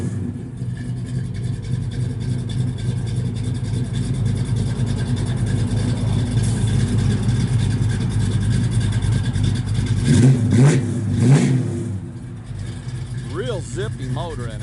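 A 1972 Oldsmobile Cutlass Supreme V8 with an overdrive transmission runs at a steady, rumbling idle close by, then gives a brief rev that swells and falls back to idle.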